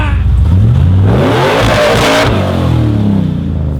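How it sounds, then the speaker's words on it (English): A 4WD car engine revs hard up close, climbing in pitch and then dropping back, loud and sustained throughout with no talking. "I'll put the sound of my car over the top of that."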